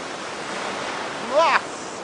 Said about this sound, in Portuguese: tamanho das ondas quebrando em cima de mim aqui